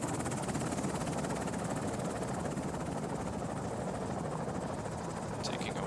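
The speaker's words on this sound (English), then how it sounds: "Chinook 1 is resupplying the fob over here." A Chinook helicopter resupplying a forward operating base in an Afghanistan military video game, its steady rotor thrum and engine roar continuous and loud for the whole stretch, with no pause.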